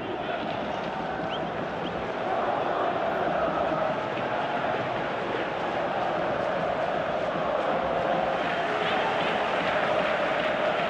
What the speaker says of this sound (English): Crowd reaction tells you just how close that was.